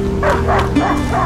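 A dog in the video game A Plague Tale: Innocence barks and yips several times in quick succession, loud and close, with a whimpering edge over a low game ambience.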